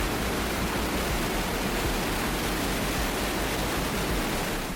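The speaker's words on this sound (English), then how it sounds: "a small hike on the Johnson Canyon Trail, which goes along this blue-green river to a really loud waterfall" A really loud waterfall at the end of the Johnson Canyon Trail in Banff, beside a blue-green river, roaring as a dense, constant broadband rush that fills the whole stretch with no other sounds.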